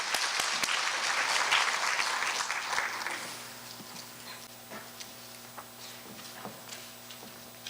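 A university event audience of incoming engineering students and their parents claps in welcome, dense applause for about three seconds that fades away, leaving scattered footsteps and small knocks in a quiet hall.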